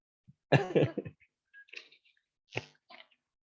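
An Indonesian lecturer with a lingering illness coughs during an online lecture on ICT in education: one strong hacking cough burst, then a few fainter throat noises and two short coughs spaced apart in a quiet room.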